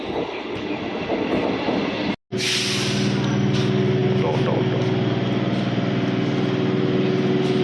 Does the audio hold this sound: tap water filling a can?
no